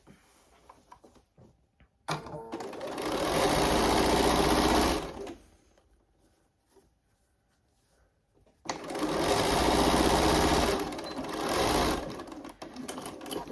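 A sewing machine stitches through the outer fabric of a small handmade gift in two loud, steady bursts of about three and six seconds, separated by a quiet pause with faint handling noises.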